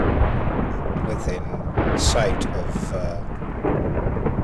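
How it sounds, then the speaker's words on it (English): Thunderstorm in the Minecraft video game, with a steady broadband rumble of rain and thunder that swells around the middle and again near the end, running under a quiet voice. "What's up with the storm?"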